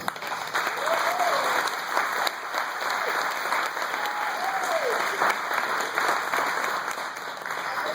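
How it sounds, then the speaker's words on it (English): Sustained audience applause fills a room at an evening community family forum, steady dense clapping throughout with a murmur of crowd noise beneath. "let's give a round of applause to Kelly."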